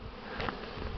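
Honeybees pour out of a strong hive on a warm spring day, a dense, steady buzzing hum from many bees flying close by, with no voices.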